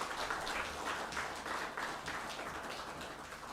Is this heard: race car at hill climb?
no